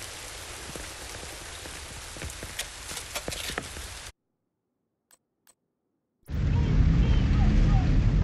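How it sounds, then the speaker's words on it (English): Heavy rain pours loudly in a cutscene from the video game The Division 2, drops out for a couple of seconds with a few faint ticks, then returns as a dense, steady downpour. "I just want to get out of this fucking rain"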